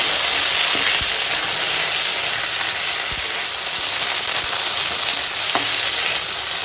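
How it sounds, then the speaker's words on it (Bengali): A ginger-cumin paste and spices sauté in a pan, a loud steady sizzle and frying hiss with occasional scraping stirs and light clicks of a utensil. "এখন দিয়ে দেবো আদা জিরে বাটা আর দিয়ে এখন মশলাটা কোনো একটু কষিয়ে"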